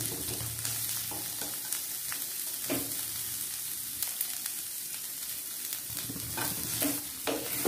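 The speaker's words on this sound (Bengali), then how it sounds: "দেখুন সব সবজিগুলো ভাজা হয়ে যাচ্ছে" Vegetables for sago pilaf sizzle and fry steadily in a pan, with occasional scraping and stirring sounds throughout and no one talking.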